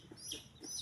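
A hen heard in soft, brief clucks, quiet and close, a few short calls spaced across under a second; her chick is injured, pinned beneath her and unable to walk.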